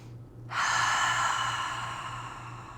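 One long, close, airy breath begins after a brief quiet and fades slowly, taken during a calm guided sound-and-movement session.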